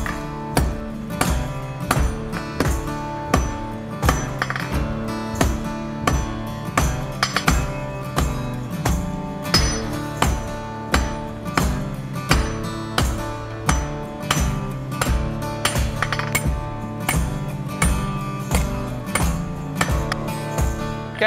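The round side of a hammer strikes a steel bar on an anvil in a steady, even rhythm, each strike a bright metallic clang, close and loud, repeating throughout.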